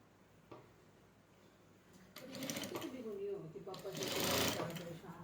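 A sewing machine stitches a sari, quiet at first, then running in a fast, steady mechanical whir from about midway, with a voice speaking faintly over it.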